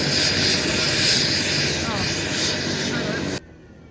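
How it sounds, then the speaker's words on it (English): A loud Canadian Coast Guard helicopter engine roars close by as it lands, steady and droning, then cutting off abruptly near the end. "we watched the Canadian Coast Guard helicopter landing at the back of the hotel"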